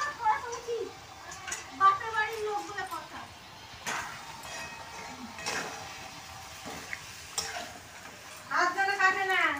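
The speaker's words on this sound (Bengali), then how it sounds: "দেখো বন্ধুরা, এখন মটন কষা হচ্ছে।" Mutton being sautéed into kosha in a home kitchen pan, with soft stirring scrapes and sizzling under frequent nearby chatter, a few sharp clinks, and a cat meowing.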